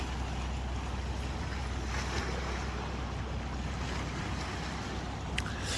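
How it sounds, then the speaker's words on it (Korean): Sea waves wash steadily against the coastal rocks along a seaside cliff trail, a continuous broadband roar with gusts of wind buffeting the microphone and no voices. "여기 이렇게 바위 바위마다 파도 치는 소리가 너무 좋습니다"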